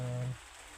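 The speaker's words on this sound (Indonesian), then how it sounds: "Hujan." Rain falling during a trip by car, a steady hiss with a brief tonal hum at the start that fades, leaving soft continuous patter.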